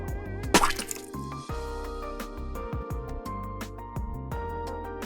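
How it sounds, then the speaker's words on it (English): Cartoonish bounce and splatter effects for an animated splash screen: a sharp wet splat near the start, then a run of squishy, drip-like pops and bouncy tonal blips, fairly quiet and without speech. "Now I'm going to incorporate these 2 sound effects into the animation bounce and splatter."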